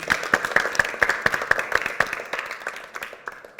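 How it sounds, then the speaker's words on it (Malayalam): A church congregation claps together in a quick, regular rhythm of loud, close hand claps that thins out and fades near the end. "കണ്ട് നല്ലൊരു ബിഗ് ക്ലാപ്പ് കൊടുത്ത് ഈശോയ്ക്ക്"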